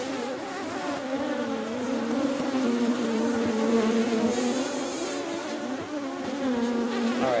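Honey bees swarm and buzz steadily around an open horizontal hive split, a dense, continuous droning hum close by with slight swells in pitch and loudness, no talking.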